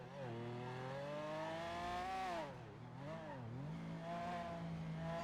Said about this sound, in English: As you can probably hear, it does have a sports engine in it.